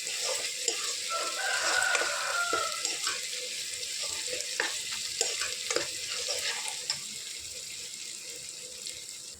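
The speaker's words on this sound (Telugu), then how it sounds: "ఒక 5 minutes ఇంతే ఫ్రై చేసుకుందాము." Masala sizzling and frying in hot oil for a chicken curry, a steady crackling hiss with occasional stirring scrapes, close and continuous throughout.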